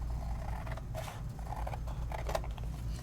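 Close, quiet snipping of scissors trimming a paper die cut, a few crisp cuts and scrapes over about three seconds with no talking.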